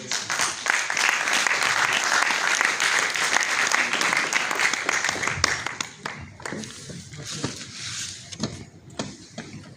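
A crowd at a youth forum applauds steadily with dense clapping for several seconds, then the applause thins out into scattered individual claps.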